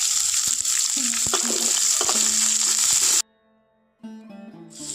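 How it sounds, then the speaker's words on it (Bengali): A large chopped onion sizzles loudly in a pan for egg with Malabar spinach (pui shak), a dense steady frying hiss with scraping stirs, which cuts off abruptly after about three seconds, followed by quieter clinks. "কয়েক সেকেন্ড মতো ভেজে নেব খুব ভালো করে"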